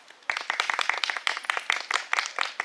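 A small audience claps for a costumed character at a heritage day skit. Brisk, dense, steady claps sound close by for a few seconds, with no voices.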